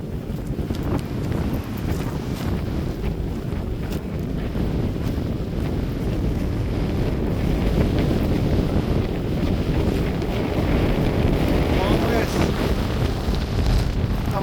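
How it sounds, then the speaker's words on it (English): Strong wind at a lake along a nature walking trail buffets the microphone in a steady, loud roaring rush that never lets up for the whole stretch. "Whoa! The wind speed. The wind is hard."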